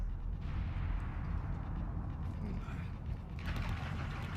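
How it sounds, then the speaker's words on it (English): Gunfire and battle noise from the video game Mass Effect 3, a dense, continuous rumble of shots and blasts that stays loud throughout, with heavier bursts near the end. "Shepard, I hear gunfire."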